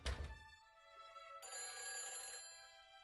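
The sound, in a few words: telephone ringing in the Nancy Drew video game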